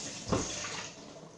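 Water splashing into a bowl as it is rinsed, a short close gush of running water over a faint background.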